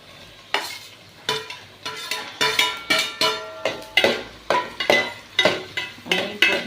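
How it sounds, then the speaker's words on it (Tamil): Paneer and onions being stir-fried in a pan: rhythmic scraping strokes of a spatula, roughly two per second, over a light sizzle, close and fairly quiet with no talk. "இப்போ நம்ம பன்னீர் போட்டுடலாம்."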